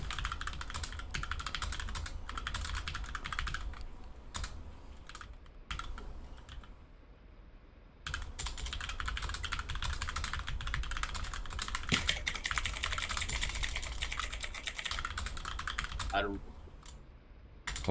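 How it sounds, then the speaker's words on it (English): Rapid clattering keystrokes on a computer keyboard come in dense bursts with a few short pauses, close and fairly loud. "Just typing this out."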